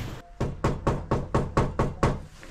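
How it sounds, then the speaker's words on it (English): Knocking on a door during a delivery stop, eight evenly spaced firm knocks, close and loud, with no talking. "Knock on that door"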